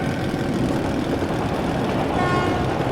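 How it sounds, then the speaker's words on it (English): A train horn in Metro Last Light, a steady sustained tone held under a low rumbling engine drone that runs continuously through the whole stretch without a break. "That's the train!"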